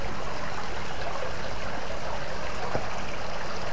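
Artificial stream at a resort near Yogyakarta, a steady continuous trickling and rushing of water, close and fairly loud, with no voices.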